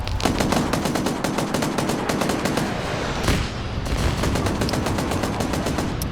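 In a video game, jets strafe vehicles with rapid machine-gun fire that rattles in steady, evenly spaced bursts. It sounds loud and close and carries on almost without a break, with a short pause partway through.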